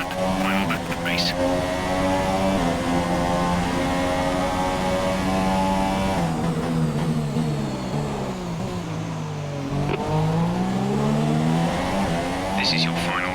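An F1 2017-season race car in the F1 2017 video game at the Monaco Grand Prix, Monte Carlo, its engine screaming loudly and continuously with rising and falling pitch through gear changes, with other cars' engines layered in.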